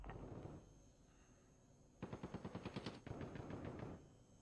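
A decoy grenade in Warzone fakes gunfire: a rapid burst of about ten loud automatic shots, then a second denser burst, after a quieter rumbling lead-in.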